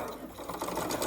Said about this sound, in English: get my sewing machine to sew a little bit